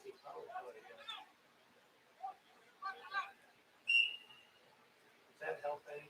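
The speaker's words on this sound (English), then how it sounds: "I can't imagine what the whistle was for unless it was an inadvertent handball." A referee's whistle during a varsity boys' high school soccer match between Lorain and Cleveland Heights: one sharp, fairly loud blast, while a commentator talks before and after it and the crowd murmurs.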